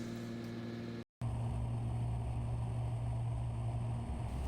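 A Cessna 414A twin-engine aircraft on a daytime landing approach gives a steady, droning engine hum with a low tonal whine, briefly cutting out for a moment before resuming at the same level.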